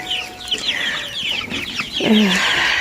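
Spanish and Master Grey chickens cluck and chatter nearby in a busy, overlapping flock, with a louder squawk near the end.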